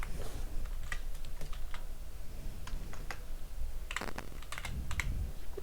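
Python code typed on a computer keyboard for a Selenium browser automation script, a fast, uneven patter of close key clicks with a few brief pauses and a denser burst near the end, no speech.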